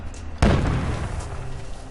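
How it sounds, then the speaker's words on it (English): A grenade blast in the video game We Happy Few: one sudden loud boom that cracks out and then rolls into a decaying rumble over a second or more. "He threw a fucking grenade at me."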